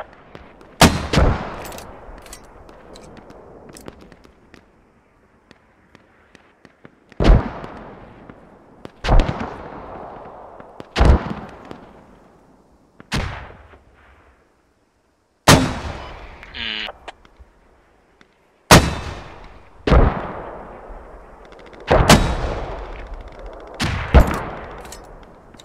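Mortar impacts and gunfire in the military shooter game Squad: a string of loud, sharp blasts with long rumbling tails, roughly eight heavy hits spread across the stretch, with faint scattered shots between them and no talk.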